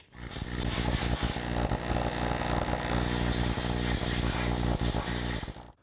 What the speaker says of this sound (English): Electric discharge machining isn't necessarily appealing to everyone's ears,